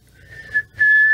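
A person whistles a short demonstration: a clear, steady tone, a brief pause, then a louder held note, close and alone without talking.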